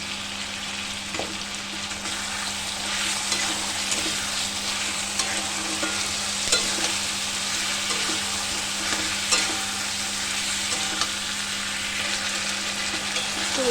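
Onion, garlic and ginger-garlic paste frying in oil while being stirred for a chicken curry, a steady dense sizzle with faint scraping of the spatula throughout.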